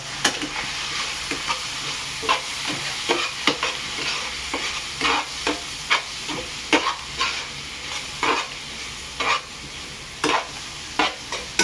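Cabbage fried rice sizzles steadily in a pan while coriander powder and red chili powder are stirred through it, with repeated scraping strokes of a spoon standing out over the constant frying hiss.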